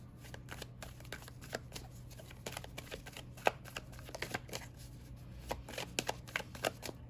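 Tarot cards being shuffled close up during a reading, a continuous rapid riffling patter with sharp card flicks over a steady low hum, and no one speaking.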